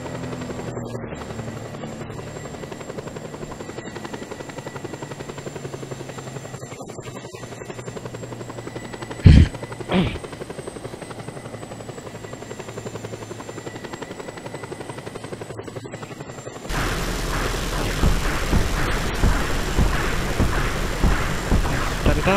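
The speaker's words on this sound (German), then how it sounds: "Den kleinen schießenden Helikopter." Small armed helicopter in the game Just Cause 2, a steady whirring rotor drone running continuously with a couple of sharp bangs midway, then a louder, busier burst of noise toward the end.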